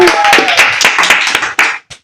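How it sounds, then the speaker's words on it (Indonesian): A school audience at an Indonesian talk show claps for a student guest, a short burst of loud, close, uneven hand claps that fades out with a final few claps. "Tepuk tangan dulu di belakang"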